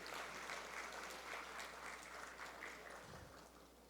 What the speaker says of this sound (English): How about a round of applause for the communications team?